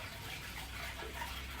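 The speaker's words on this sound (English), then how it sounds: "I started putting in some water in here." Tap water pouring steadily into a home aquarium tank during a water change, a continuous soft gushing wash that stays even throughout with no talking.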